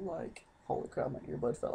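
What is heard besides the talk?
No everyday noise stands out behind the speech.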